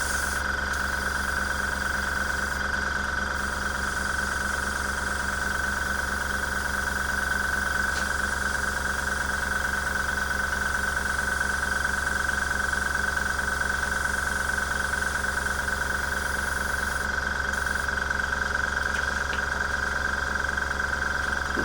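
A budget airbrush compressor hums and chugs continuously at close range with its pressure turned up to nearly 30 PSI, a steady motor drone with a rapid pulsing rhythm and no talk.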